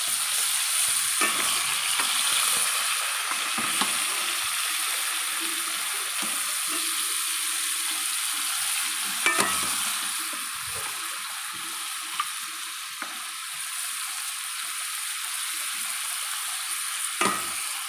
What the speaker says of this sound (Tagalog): Lalagay ko na bali itong pinalambot nating pork ribs.